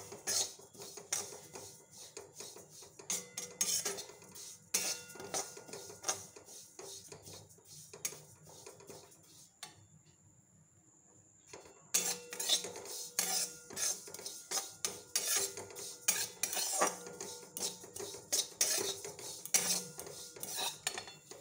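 Sesame seeds are dry-roasted in a hot wok and stirred, producing quiet repeated scraping and metallic clinks in bursts, with a brief lull partway through before the stirring resumes.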